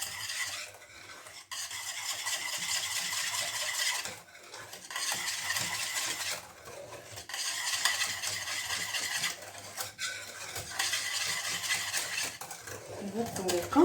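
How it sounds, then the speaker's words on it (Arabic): Caramel flan mixture stirred in a pot makes a repeated scraping swish in long strokes with brief pauses between them, close and moderately loud, with a little faint background voice. "دابا نخلطو بهاد الطريقه هذه."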